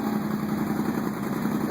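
A four-wheeler ATV fitted with an aftermarket buzz exhaust idles steadily and close by, a continuous low, even engine rumble with no talking.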